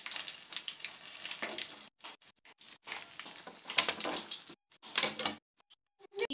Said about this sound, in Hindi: इसी तरीके से बाकी फ़िश फ्राई करके तो मैं आपको दिखाती हूँ।